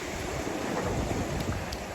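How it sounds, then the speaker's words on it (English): Open Caribbean Sea waves wash steadily around a solo sailboat in light wind, a continuous close rushing roar with no voices. "Good bit of waves, but not very much wind."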